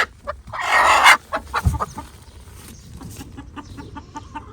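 A hen with an injured leg clucks on a farm: one loud, harsh squawking burst early on, then a string of softer, short clucks spaced irregularly and fading toward the end, with no talk.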